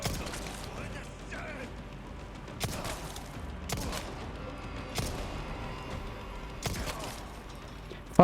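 Several sharp gunshots crack at irregular intervals in the video game Resident Evil 4 Remake, each one distinct over a busy, low background of game sounds, with no talk.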